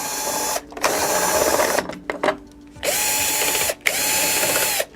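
Power drill backing out screws from the legs of a 70-inch 4K Hisense TV, in three sustained whirring bursts separated by short pauses and small clicks, close and fairly loud with no talking.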